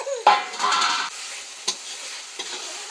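Village-style meat with masala and tomatoes being stirred and fried in a pan: a loud burst of scraping and sizzling, then quieter hissing broken by a few sharp utensil knocks.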